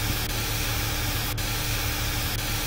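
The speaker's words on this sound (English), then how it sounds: "The steam has been vented." Steam vents with a steady, loud, broadband hiss in the Jurassic Park: The Game video game, continuous and unchanging throughout with no voices over it.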